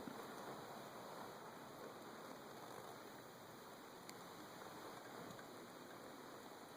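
Rain falls outside by a front porch, a faint, continuous hiss of drops that stays even throughout with no voices.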